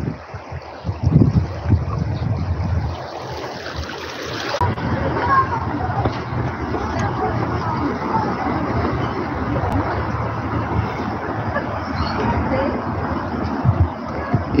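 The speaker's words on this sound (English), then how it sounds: "I love the sound of water flowing. It's very relaxing." Water flows outdoors during a walking tour of Seoul, a steady rushing wash with wind buffeting the microphone and people talking over it.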